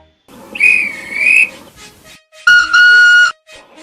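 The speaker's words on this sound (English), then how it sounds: "The guard blew his whistle" Two loud, shrill whistle blasts, each lasting about a second, separated by a brief pause with quieter tones in between.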